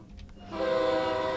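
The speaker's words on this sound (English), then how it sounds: "The train horn." A steady, loud Acela train horn blast in Train Sim World 3 begins after a brief lead-in of rumble and clicks, holding a sustained multi-tone chord to the end.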